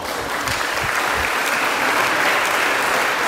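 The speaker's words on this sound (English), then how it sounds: "Give yourself a round of applause." Students clap together on the first day of classes at school, a steady, dense round of applause sustained for a few seconds, fairly loud and without speech over it.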